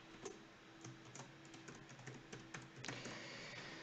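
Quiet, steady clicking of keys as someone types on a computer keyboard, a close run of irregular keystrokes against a faint background hum.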